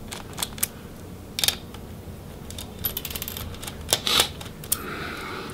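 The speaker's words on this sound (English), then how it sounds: "we will go ahead and remove these screws for the fan" Small screws being removed from the fan of a Dell Inspiron 14 7460 laptop, a scattered series of faint metallic clicks and ticks from a screwdriver and loose screws, close up and with no voices.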